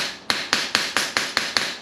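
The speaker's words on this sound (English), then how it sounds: "Just a ball peen hammer" A ball peen hammer strikes a dented metal grill laid flat on a cement floor, seven sharp metallic blows at an even, quick rhythm, each ringing briefly before the next, close and clear with no talk.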